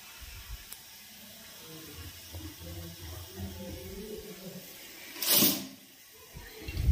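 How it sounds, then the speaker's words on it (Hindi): Water is poured into a pan of spiced cooking seasoned with chili, coriander, salt and turmeric: a short, close rushing splash and hiss stands out from a quiet, low background rumble. "अभी मैं डाल दूँगी इसमें थोड़ा सा पानी।"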